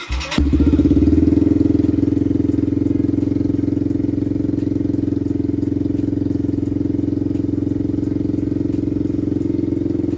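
A Yamaha motorcycle engine cranks and catches, then settles into a loud, steady idle that runs close and uninterrupted for the rest of the stretch.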